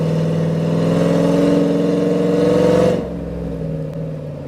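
A deep 5.3L V8 engine in a cammed Chevrolet Silverado with long-tube headers rumbles steadily and loudly up close, then the revving drops off abruptly to a lower idle.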